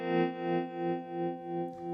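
Through a Chase Bliss Audio Gravitas analog tremolo pedal with the sway control turned fully up, a sustained guitar chord pulses in about five even, slightly swung swells of volume.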